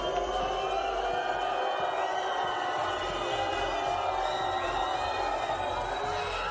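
A home crowd roars for France at a women's FIBA 3x3 basketball finals in Clermont-Ferrand, a dense, continuous wall of cheering and shouting that holds steady throughout.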